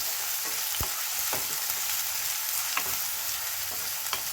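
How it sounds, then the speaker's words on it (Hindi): Onions frying in a pan, a steady broadband sizzle with a few sharp clicks as they are stirred, continuous and close with no talking. "अब इसमें डालेंगे हम प्याज और इसको भी गोल्डन हम कलर आने तक इसी तरह से अच्छे से तलेंगे"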